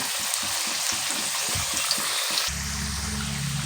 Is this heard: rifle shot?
no